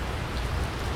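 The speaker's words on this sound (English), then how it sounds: "Typical Florida afternoon thunderstorm, but we've been getting this every single day" Heavy Florida afternoon thunderstorm rain pours down steadily outdoors in a dense, continuous roar with no breaks and no voices.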